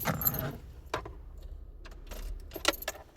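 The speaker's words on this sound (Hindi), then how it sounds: "लगाओ चाबी को पहले" Car keys jangle and clink as they are taken up and slid into the ignition of a car in neutral, a few short metallic rattles close by with quiet pauses between them and no talking.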